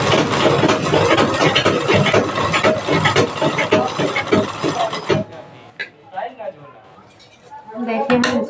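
A sewing machine stitches a blouse seam in a fast, loud, rattling run for about five seconds, then stops, leaving quieter handling noises and a person talking.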